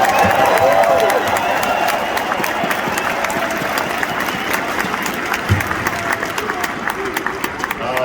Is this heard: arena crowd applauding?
yes